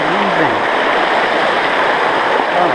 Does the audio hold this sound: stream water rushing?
yes